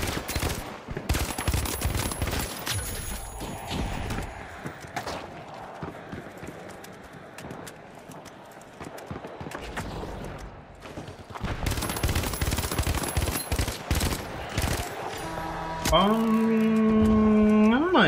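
Rapid automatic gunfire in the online shooter The Finals, with FAMAS and revolver shots, comes in dense bursts through most of the stretch, loud and close, among running footsteps and other game sounds.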